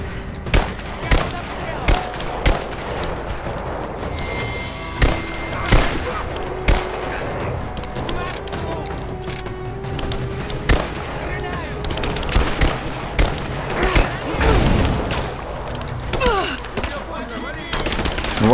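Gunfire in the video game Rise of the Tomb Raider: sharp single shots and rapid automatic bursts crack repeatedly throughout, some louder and closer than others, over a busy background of combat noise and a voice.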